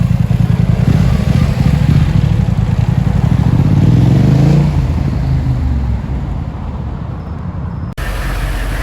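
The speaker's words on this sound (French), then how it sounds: "De bécane, une R1000." A Yamaha R1000 motorcycle engine at a Paris supercar gathering, loud and close, a rough throbbing idle swelling into a rev that sweeps up, then settling into a steady drone before an abrupt cut.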